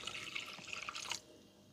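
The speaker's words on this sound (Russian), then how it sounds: "Теперь нам нужно добавить, получается, сюда 200 грамм воды." Water poured into a Thermomix bowl while making cough syrup, a short splashy stream lasting about a second before stopping, close and fairly quiet.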